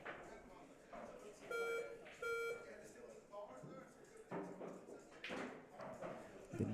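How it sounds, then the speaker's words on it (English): Snooker-style tournament buzzer sounding twice in quick short electronic tones, faint and close, amid quiet commentary voices. "Didn't press the buzzer in time"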